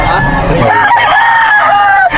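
A rooster at a pet market gives one loud crow close by, a drawn-out rising and falling call lasting about two seconds, with a hint of market noise underneath.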